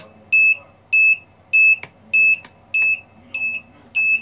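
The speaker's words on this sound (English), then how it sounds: "now you hear the beeper going off" An electronic beeper sounds in regular short high-pitched bursts, about eight evenly spaced beeps, loud and clear over a faint background hum.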